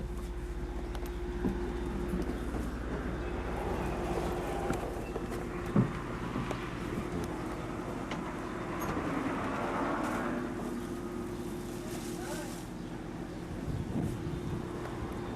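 A Strasburg Rail Road passenger train pulls away on a 1998 ride, a steady low rumble and rolling clatter with a constant hum, heard from on board with wind buffeting the microphone throughout.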